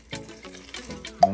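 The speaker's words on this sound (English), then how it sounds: "Then we're going to add some water" Water pours in a brief splashing trickle into a bowl of fritter batter, a short liquid burst lasting about a second.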